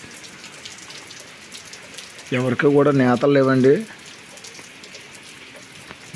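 Rain falls steadily on surfaces in a handloom weavers' village, a soft, constant patter running throughout while someone speaks briefly over it.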